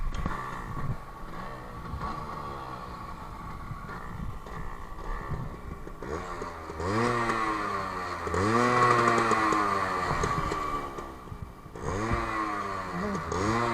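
A Samurai motorcycle engine runs near the microphone, a rough buzzing idle that swells into repeated rising revs in the second half, with a brief dip before another rev near the end.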